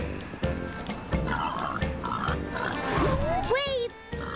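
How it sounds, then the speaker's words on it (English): A pig oinks and grunts in short bursts during a training session, with squeals near the end, while people talk over it. "I got a pig here to train"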